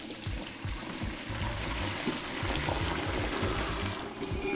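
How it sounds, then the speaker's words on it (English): Cooked pasta being drained, water pouring and splashing continuously into a sink or colander, a close steady gush with rattling low bumps throughout and no talk. "we're gonna go ahead and drain the pasta."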